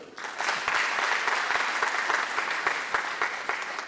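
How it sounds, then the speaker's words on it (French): An audience at a fashion industry graduation ceremony breaks into applause, a dense run of clapping that rises quickly and stays steady, with a few sharp individual claps standing out above the crowd. "Applaudissez pour ça."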